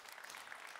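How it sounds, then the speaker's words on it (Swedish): A conference audience at the Elmia Subcontractor trade fair's main stage claps in a short, steady burst of applause. "En varm applåd till Scania."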